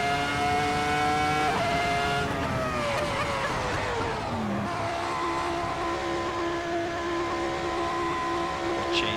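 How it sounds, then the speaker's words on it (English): A Ferrari F2004 Formula One car in the racing sim Assetto Corsa screams at high revs against its rev limiter, a loud, buzzing, harmonic engine tone that holds, dips and rises again. "I'm sick of bouncing off the rev limiter"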